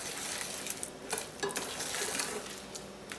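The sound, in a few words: stirring almonds in hot sugar syrup for brittle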